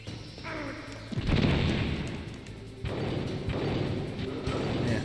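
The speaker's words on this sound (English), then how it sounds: "Take a stun grenade." A stun grenade goes off in a video game with a sharp crashing burst, followed by a lingering noisy rumble and a second jolt a little later, with no speech.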